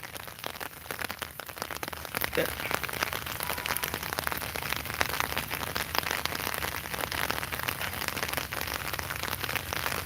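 Unseasonal winter rain falls steadily in Sylhet, a dense, even patter on surfaces that continues for about ten seconds, close and fairly loud, with no voices.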